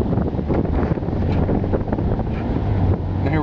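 Steady rush of wind buffeting the microphone over low road roar from a Mustang V6 convertible driving with the top down, continuous and fairly loud with no voices.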